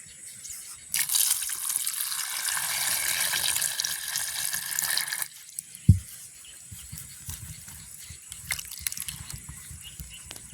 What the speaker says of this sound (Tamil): இதை நல்லபடியாக கழுவி எடுப்போம்